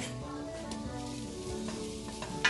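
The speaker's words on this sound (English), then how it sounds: "That's the sizzle of the garlic." Garlic sizzles in a pan after onions for a lean ground beef meat sauce, a soft, steady frying hiss with a sharper crackle near the end, no speech.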